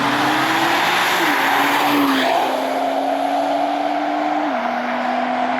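A 2015 Nissan R35 GT-R accelerates hard with a loud, close engine drone whose pitch climbs and steps through gear changes, over steady road and wind noise.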